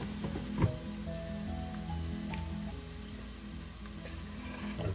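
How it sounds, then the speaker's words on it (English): Pork belly sizzling as it sautés in a pan, a continuous close frying hiss with a sharp clatter of a utensil early on and faint stirring scrapes throughout. "Now we can start sautéing."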